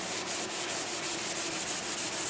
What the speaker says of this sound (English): you're going to use a 100 grit sanding sponge, and you're just going to go over the piece and just rough it up